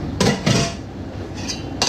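A metal saucepan of about three litres clanks a few times as it's handled, sharp knocks scattered over two seconds with quiet gaps between.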